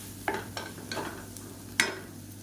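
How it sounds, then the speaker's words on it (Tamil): Tomatoes with turmeric being sautéed and stirred in a pan for a South Indian lunch, a few spoon scrapes and soft sizzling bursts spaced irregularly, close and fairly quiet with no talking. "தண்ணி விட்டு இந்த தக்காளி எல்லாமே நல்லா மசிஞ்சு வர அளவுக்கு வதக்கலாம்."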